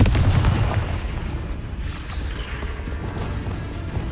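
A Confringo fire-blast spell cast in Hogwarts Legacy, a heavy booming impact at the start followed by crackling, rumbling decay and a few sharper bursts.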